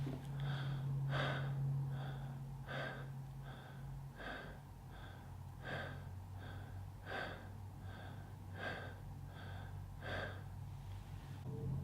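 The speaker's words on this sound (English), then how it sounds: "We will do a few minutes of this faster breathing" Fast connected breathing exercise done at a quick, steady pace, with about sixteen sharp breaths in even rhythm, close and fairly soft, and a low hum beneath them.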